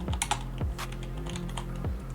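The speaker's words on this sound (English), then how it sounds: "You can type in your payloads here" Keys clack on a computer keyboard in a quick, close run of typing, with a few heavier strokes and no speech.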